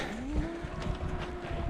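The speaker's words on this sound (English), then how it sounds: "There's 3 big bulls over there" Three big bulls in an open meadow low and moo with a rising drawn-out bellow, moderately distant over faint outdoor ambience, with no voices.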